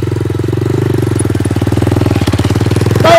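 Kayo 250 dirt bike engine held at steady revs with a rapid, rhythmic firing pulse, loud and close throughout, rising sharply in pitch right at the end as the throttle opens for a wheelie.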